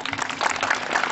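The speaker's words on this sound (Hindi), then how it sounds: "जोरदार तालियां।" Applause from a crowd at a school science block inauguration ceremony, a short steady burst of clapping.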